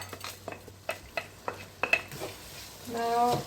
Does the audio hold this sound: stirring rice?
yes